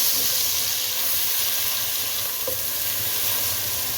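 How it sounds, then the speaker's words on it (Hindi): Steady, loud sizzling of onions frying in a hot pan, a continuous crackling hiss with a soft stir partway through. "अब प्याज को इसको फ्राई करें।"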